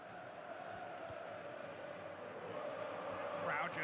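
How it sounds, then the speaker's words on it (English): A faint crowd roars and swells in a FIFA football video game match between Wales and Macedonia, a steady rumble of chanting rising toward the end beneath commentary. "Crowd urging the Welsh forward, they're on the attack."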